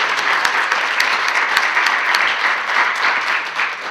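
Steady applause from a crowd fills the room, dense continuous clapping at an even level throughout.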